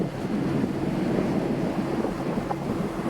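Ocean surf rolls onto Khalaktyrsky black-sand beach in Kamchatka, Russia, a steady broadband wash of breaking waves with wind buffeting the microphone and no voices.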